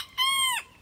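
A single chicken gives one short, bright, tonal squawk lasting under half a second, fairly close and clear against a quiet background.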